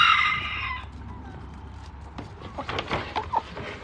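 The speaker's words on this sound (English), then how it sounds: "Oh, I hear the turkeys off in the distance somewhere." Distant turkeys from a free-ranging flock in the rain calling out, a burst of high cries at the start followed by scattered faint gobbles and clucks over soft background patter.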